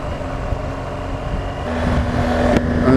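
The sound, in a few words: motorcycle riding on the road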